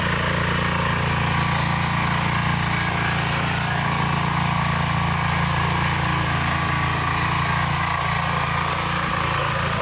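A four-wheel 12 hp mini power tiller engine runs steadily at a constant drone, loud and close, with a rough mechanical rattle throughout and no voices.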